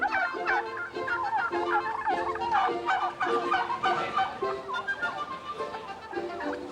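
A turkey from a turkey farm gobbles loudly and repeatedly in rapid, warbling bursts that run for several seconds.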